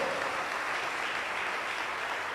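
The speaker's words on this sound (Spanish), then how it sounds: "Dele fuerte las palmas al Señor en el nombre de Jesucristo." Church congregation clapping hands together in praise, a dense, steady wash of applause with no pause, fairly close and uniform throughout.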